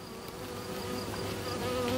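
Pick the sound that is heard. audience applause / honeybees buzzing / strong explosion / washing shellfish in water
honeybees buzzing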